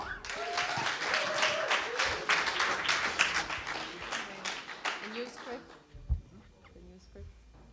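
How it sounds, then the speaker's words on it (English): Audience at a live show at The Bedford clapping and cheering for a band, a dense burst of applause that swells, then thins and fades out toward the end. "would you put your hands together and give an amazing round of applause"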